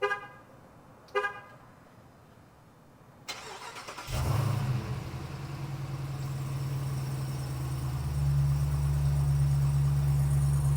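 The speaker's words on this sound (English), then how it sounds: "the deep, throaty idle is coming from this Durango Hellcat" A 2024 Dodge Durango SRT Hellcat fires up by remote start with a short chirp, then settles into a loud, deep, throaty idle that rumbles steadily up close and swells slightly in the last few seconds.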